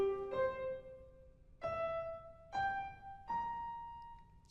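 Piano notes climbing a harmonic series, four struck tones rising step by step, each ringing with clear overtones and decaying before the next, played alone in a recital setting.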